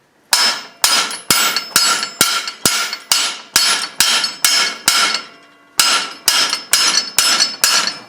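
A hammer taps a pin, seated on an Allen wrench, into a tractor lift arm on a TC33D: a steady series of sharp metallic strikes about every half second, a short break, then more evenly spaced blows, loud and close.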